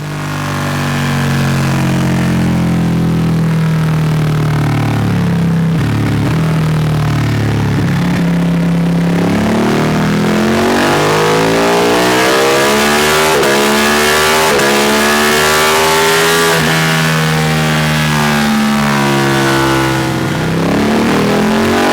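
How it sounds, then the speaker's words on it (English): Ducati Panigale 1299 fitted with a full Akrapovic exhaust, held at wide open throttle, a loud sustained engine note that climbs steadily in pitch as it revs up, then holds high, with no talking. "So I'm just going to do some runs at wide open throttle"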